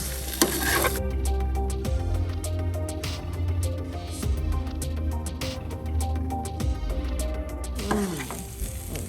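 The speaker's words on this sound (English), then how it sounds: "Now it's time to add in these parboiled potatoes." Parboiled potatoes fry in an oiled pan for devilled potatoes, a steady close sizzle with scraping stirs and clinks of a utensil against the pan, no voices.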